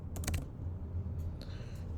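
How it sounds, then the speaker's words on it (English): Fingers tap a computer keyboard during a screen-recorded physics lesson, a quick cluster of key clicks followed by a few scattered presses, quiet and close with a low hum underneath and no talking. "I think with the keyboard it will be faster."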